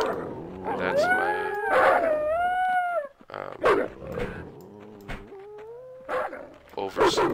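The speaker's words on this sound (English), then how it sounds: "Wolves standing in my back door." Wolves howl just outside a back door, their long, wavering cries rising and falling and overlapping one another, broken by short yips and growls.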